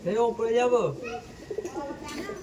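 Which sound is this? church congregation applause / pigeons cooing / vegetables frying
pigeons cooing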